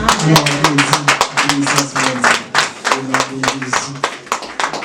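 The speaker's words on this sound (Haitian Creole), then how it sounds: "Nous applaudissons bon Dieu." A church congregation at a Sunday youth worship service claps hands in praise, a loud, close, rhythmic run of many claps with voices singing or talking underneath.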